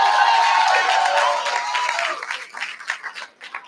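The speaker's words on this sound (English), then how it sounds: "Y'all clap it up for Marijuana Justice." An audience at a live community event claps and cheers for a sponsor, a loud burst of dense applause that thins into scattered claps and fades toward the end.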